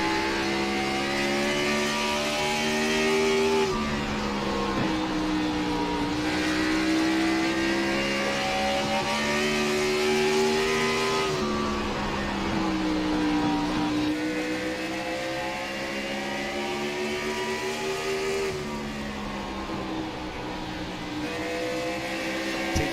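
Stock car engines roaring at Bristol, a steady drone of revving motors rising and falling in long sweeps as cars circle the high-banked track, loud and continuous with no talk.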